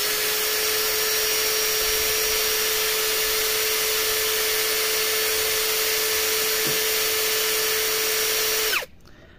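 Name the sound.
APR AP12+ cordless drill running at maximum speed 2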